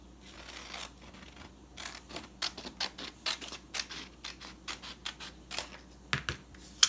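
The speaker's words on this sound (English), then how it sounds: "and then you're going to cut the bottom rectangle off" Scissors cut through a sheet of folded computer paper, a close run of crisp, rhythmic snips that quicken toward the end as a rectangle is trimmed off for a paper rose.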